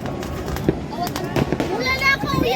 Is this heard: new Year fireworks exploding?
yes